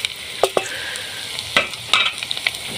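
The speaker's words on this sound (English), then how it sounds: "You just mix your mukimo so well" Mukimo is stirred with onion in a pot, with scraping and knocking of a spoon against the pot in irregular bursts over a light sizzle, close by and without speech.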